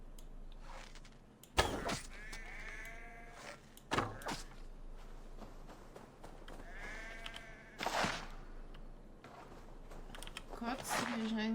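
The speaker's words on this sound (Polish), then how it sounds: "Czy ja mogę zabić owcę?" Sheep bleat in a Viking-era countryside scene in the Assassin's Creed Valhalla video game, several wavering bleats at intervals over a low ambient game soundtrack, with someone talking throughout and brief thumps.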